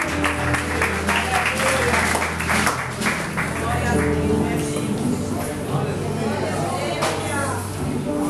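Congregation applauding in a church service after the preacher's prayer, a dense steady wash of many hands clapping under music and a loud voice.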